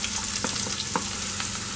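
Onion hits hot oil with mustard seeds in a pan, giving a dense, close sizzle with a few popping crackles.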